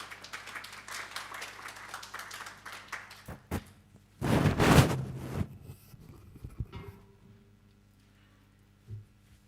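An audience claps to welcome a speaker at a government campaign launch, starting as scattered clapping and then swelling briefly into a louder burst of applause before fading into room noise and faint microphone handling.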